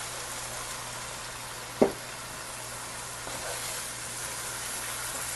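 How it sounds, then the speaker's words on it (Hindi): Lentils for dhaba-style daal mash fry in a spice masala with a steady, soft, close sizzling hiss. A single knock of a spoon against the pan comes partway through. "इस मसाले में अच्छी तरह से इस दाल को हम भूनेंगे।"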